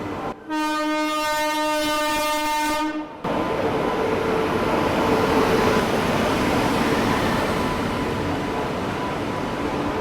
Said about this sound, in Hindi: फाइनली यहाँ पे ओवरटेक कर रही है वो ट्रेन, स्लो स्पीड में ही सही